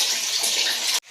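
Water gushes from a bathroom tap in a close, loud, steady splash for about a second, then cuts off abruptly into quiet.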